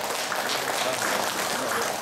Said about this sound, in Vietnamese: Xin một tràng vỗ tay thật lớn, chúc mừng kết quả trong tháng vừa qua.